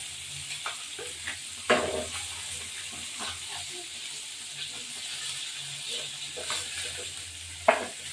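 Fish pieces frying in a pan give off a faint, steady sizzle, broken by a few sharp clinks and scrapes from turning them.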